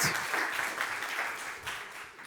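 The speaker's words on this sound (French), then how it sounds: "je vous invite à faire un tonnerre d'applaudissements aux deux pour leur conférence" Conference audience applauding two speakers at a talk on adopting GitHub Copilot in the enterprise: a sustained, dense patter of many hands clapping at once, steady throughout and fairly close.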